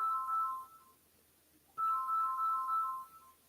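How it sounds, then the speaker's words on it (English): A phone ringtone plays a bright repeating electronic melody in two bursts separated by a short pause, clear and fairly close, with no voices over it. "My phone is ringing."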